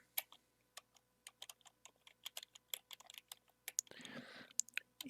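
Keystrokes on a computer keyboard as a conda command is typed, producing faint, close, evenly spaced clicks with a brief rustle near the end and no speech.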